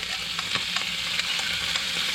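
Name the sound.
squid sizzling in hot oil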